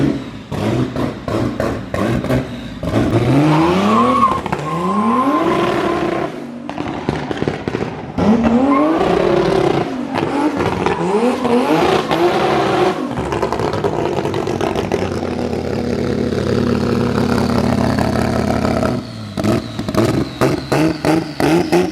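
A turbocharged BMW E46 M3 on a dyno, engine revving hard through repeated rising sweeps, very loud and close, with abrupt cutoffs, crackles between pulls and a sustained high-rpm roar.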